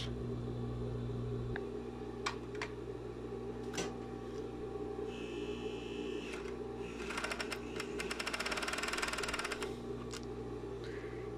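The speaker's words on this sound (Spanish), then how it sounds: "Tomamos nuestras dos piezas de la bolsa y la introducimos en el pie prensatelas de la over." An overlock sewing machine stitches two fabric pieces of a sportswear trouser pocket. A steady background hum and scattered clicks lead into a couple of seconds of fast, buzzing stitching near the end.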